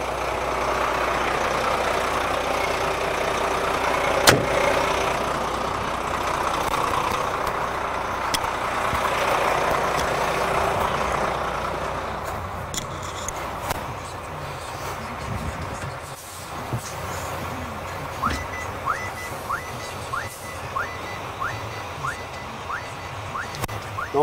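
A vehicle engine runs at a low idle as the car creeps a quarter wheel turn to lock and tension a snow chain, with a few clanks and metallic clicks over the steady hum.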